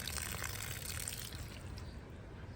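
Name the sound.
water running to deep-water a tree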